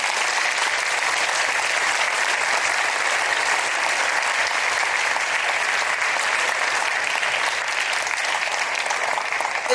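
A concert audience gives honor choir students a round of applause, a thick, even roar of many hands clapping that stays constant and loud from start to finish.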